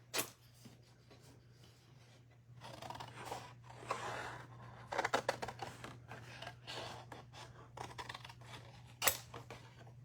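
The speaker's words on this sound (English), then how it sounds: "Let's cut the sentiments off and then they'll go in their own stack." Scissors snipping apart printed paper card sentiments at a crafting desk, a soft run of quick crisp cuts and paper rustles over a steady low hum, fairly quiet and close, with no speech.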